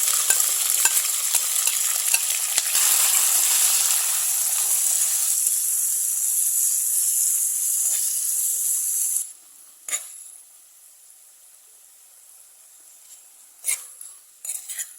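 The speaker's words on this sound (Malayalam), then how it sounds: "ഇനി ഇതിലേക്ക് നമ്മൾ കട്ട് ചെയ്ത് വെച്ചിരിക്കുന്ന തക്കാളി നമ്മുടെ പച്ചമുളക് ഇഞ്ചി ഉള്ളി ഇതെല്ലാം കൂടി ഇട്ട് നന്നായിട്ടൊന്ന് വഴറ്റിയെടുക്കാം" Tomato, green chilli, ginger and onion sautéing in a pan for a dried mackerel curry, a loud hissing sizzle with stirring for about nine seconds, then dropping to a faint simmer with occasional utensil knocks.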